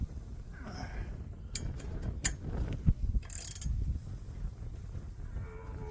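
A ratchet or wrench clicks and grinds as bolts are tightened on a winch bracket fitted to a trailer, with scattered metallic clanks and short ratcheting bursts close by.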